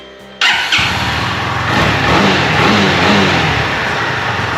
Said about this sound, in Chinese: 我们来听一下它引擎声音